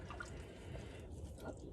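Soft, close drips and small splashes of water sound faintly and irregularly as a woven Bolga basket is pressed and shaped while it soaks in a sink.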